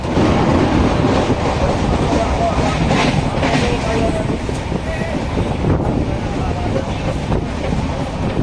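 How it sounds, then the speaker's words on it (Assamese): A passenger train travelling from Assam toward Kolkata rolls along the rails with a loud, close, continuous rumble and clatter, overlaid by buffeting wind noise. "ট্ৰেইনত উঠি ললো মানে এতিয়া যাই আছো"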